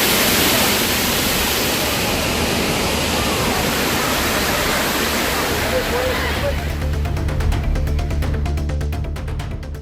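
Hogenakkal waterfall on the Kaveri river during low water, a steady, loud broadband roar of falling and rushing water filling the whole span without a break.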